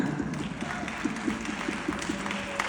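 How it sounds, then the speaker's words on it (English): A crowd at a survivors' wellness festival gives a round of applause, a soft, distant wash of many hands clapping that carries on evenly throughout. "Let's give ourselves a round of applause right now."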